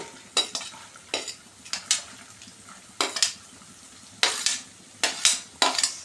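Onions frying in a tablespoon of butter stay quiet between strokes, broken by sharp, bursting sizzles and scrapes each time a spoon stirs the pan, about nine strokes in all.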